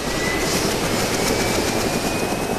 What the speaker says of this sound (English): And the helicopter is pretty loud, so you might get some zombies on you.